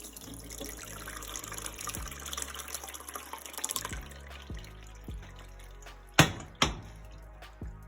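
Homemade soy milk pours steadily in a continuous splashing stream, over a low rhythmic background, ending with a couple of sharp clunks near the end.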